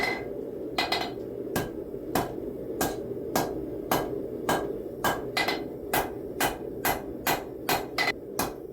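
A hammer strikes steel on an anvil while forging a knife blade, sharp ringing blows landing in a steady rhythm that quickens toward the end, close and loud with no talking.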